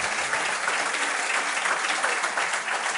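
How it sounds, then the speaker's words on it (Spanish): A studio audience applauds a guest on a Spanish television special, dense sustained clapping filling the whole stretch at a steady level. "Pido un aplauso para él."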